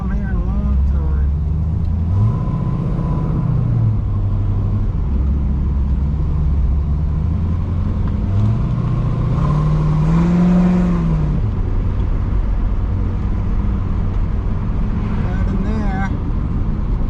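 Kyosho Hellcat 81 Camaro Z28 RC car motor whirring and rising in pitch in short bursts of throttle across a parking lot, with someone talking briefly over it.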